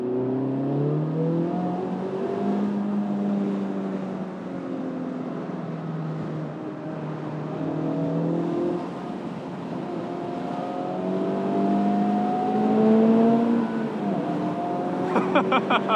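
A Honda Civic Type R drives on a track, its engine rising and falling through repeated revving and gear changes, heard steadily from inside the car.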